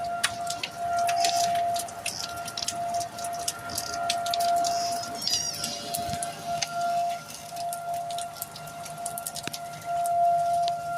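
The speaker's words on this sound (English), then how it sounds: "First time I've ever heard the tornado sirens legitimately go off in this area." Outdoor civil defense tornado sirens drone continuously from afar over steady rainfall, the warning tone rising and falling slightly in loudness while raindrops tap nearby.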